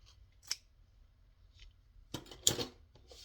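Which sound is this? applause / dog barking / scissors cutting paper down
scissors cutting paper down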